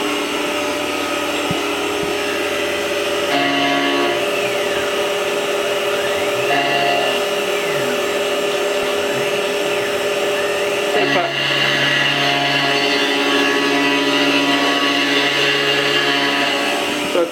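A Tormach CNC mill cuts 6061 aluminium with a high speed steel tool at about 4,000 RPM, giving a steady, loud whine with tonal shifts as the cut changes, continuous throughout with no talk.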